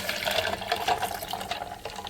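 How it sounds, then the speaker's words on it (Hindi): Water is poured steadily into sugarcane juice with ice and black salt, a continuous splashing gurgle lasting about two seconds. "गिलास जितना डालूँगी पानी।"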